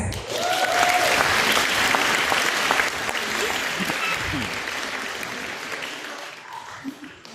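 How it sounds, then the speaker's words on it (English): A crowd applauds the nominees and winners of the Originator Awards at Vancouver Fashion Week, loud sustained clapping that gradually fades, with a few voices and a whistle-like call mixed in. "let's get a big round of applause to all of our nominees for the Originator Awards as well as the winners"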